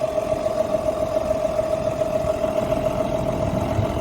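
A tractor engine runs at a steady idle nearby while it backs away, with an even, throbbing mechanical drone and a constant whine, and no talking.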